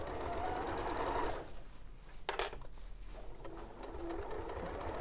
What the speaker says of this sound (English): just basting all the bits together